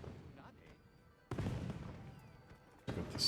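Fireworks burst in the Monster Hunter video game, two sharp loud booms with crackling tails after a quieter stretch, close and punchy, with a little faint game ambience between.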